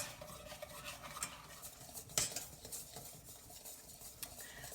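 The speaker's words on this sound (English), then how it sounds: "we have been whisking and stirring away for about 5-6 minutes" Orange curd is whisked and stirred in a pot, a faint, busy swishing with light metallic clinks and one brighter scrape partway through.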